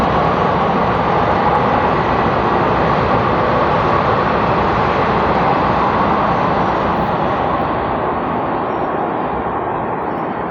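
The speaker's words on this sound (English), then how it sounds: "Now train came, wait to 30 seconds." A train passes by outdoors with a steady, loud, broadband roar and rumble that holds for about ten seconds and then eases slightly near the end, with no speech.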